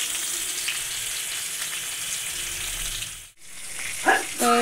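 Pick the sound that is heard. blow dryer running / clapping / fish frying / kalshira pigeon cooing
fish frying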